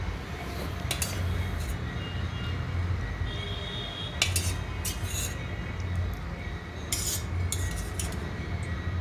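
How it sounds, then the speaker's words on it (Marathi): A spoon scoops thick curd from a pot onto a cloth, giving a few sharp metallic clinks and scrapes against the pot at intervals over a steady background hum. "बघा मी एक चमच्याने दही त्यावर टाकत आहे"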